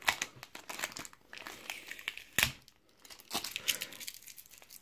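Close, crackly crinkling and sticky tearing sounds as tape is peeled from plastic-wrapped Pokémon XY Evolutions card packs, coming in irregular bursts with short quiet gaps.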